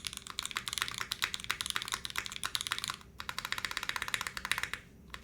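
Fast, close typing on a modded KBDFans Margo mechanical keyboard, a dense run of crisp clacks with a brief pause near the middle and a trailing gap at the end, no voices.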